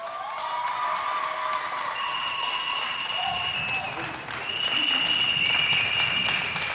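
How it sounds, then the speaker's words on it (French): An audience applauds a contestant from Fort Archambault on a Chad television special for the republic's 63rd anniversary. The clapping is steady and fills the space, with sustained tonal sounds running above it, and it swells louder near the end. "On l'applaudit bien fort."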